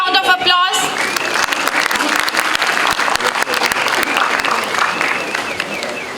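Audience applause welcoming Mr. Bhupesh Chaudhary to the dais at the MAIMS International Conference (MIC-24), steady dense clapping throughout after a brief voice at the very start.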